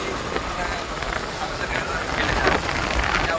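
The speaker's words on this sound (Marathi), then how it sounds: "खूप पाणी पडत आहे इथं, तरी पण आम्ही लोणावळ्याला फिरायला आला." Heavy monsoon rain falling outdoors in Lonavala, a dense continuous hiss of water on surfaces that swells slightly toward the end, with faint voices in the background.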